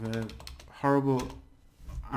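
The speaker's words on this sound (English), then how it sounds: "very bad at typing, so I have to look at the keyboard." Typing on a computer keyboard gives quick clicks that run beneath a person talking close to the microphone.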